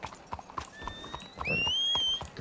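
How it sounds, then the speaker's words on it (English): Horse hooves clip-clop in the Red Dead Online video game, a run of sharp knocks spread across the clip, with high whistling whinny-like tones drawn out over the middle and latter part. "Get over here, you dumbass horse."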